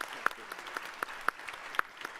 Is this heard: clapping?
yes